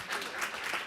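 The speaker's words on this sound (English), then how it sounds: "Let's give Danielle a round of applause." Brief burst of audience applause at a conference for a millennial panelist, a steady moderate wash of clapping.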